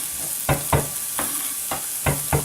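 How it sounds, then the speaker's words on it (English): A garlic and shallot mixture fries in a pan with a soft sizzle, broken by several sharp stirring scrapes at uneven intervals, close and clear, with no voices. "Keeping an eye on our garlic and shallot mixture, making sure it's not burning."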